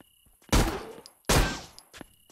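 Two loud gunshots from a firearm in the zombie shooter Zompiercer, each a sharp close crack with a decaying tail, spaced under a second apart, followed by a faint click.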